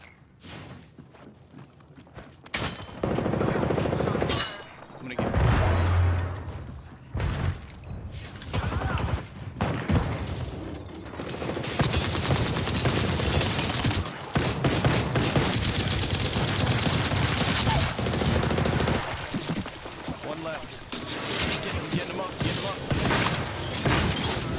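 Sustained gunfire during a video game shootout, dense bursts of automatic fire and scattered single shots running loud and continuous for most of the stretch, with a brief quieter opening.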